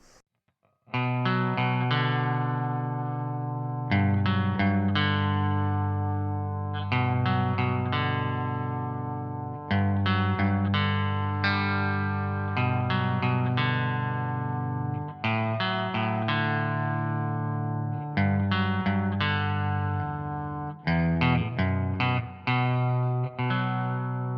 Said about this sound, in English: The reverb just makes it just have that chorusy sort of effect.